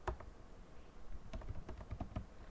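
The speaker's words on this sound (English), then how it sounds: "I'll be typing here." Typing on a computer keyboard, a string of soft, uneven key clicks in quick bursts, faint and close, with no talk.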